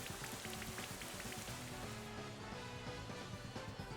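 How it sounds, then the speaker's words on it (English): Rain Dance in Pokemon Sword and Shield brings a faint, steady hiss of falling rain that runs beneath looping game music. "We get our rain dance back up."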